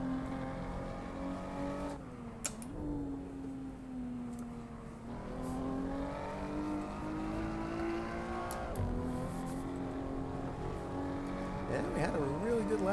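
Race car engine in the Assetto Corsa sim racing game revving hard through the gears, a steady loud whine rising and dropping with shifts across the lap, with someone talking over it throughout.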